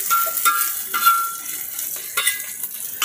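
Onions frying in hot oil in a pan, being stirred, with a steady close sizzle broken by a few sharp scraping and clinking strokes of the spoon against the metal.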